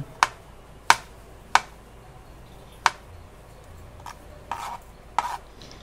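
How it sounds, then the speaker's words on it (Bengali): A knife slices mushrooms thinly on a cutting board, making crisp, sharp taps in an uneven series of about seven cuts, close and clear, with the later strokes softer and slightly scraping. "সব মাশরুমগুলোই আমি এইভাবে কেটে নেব।"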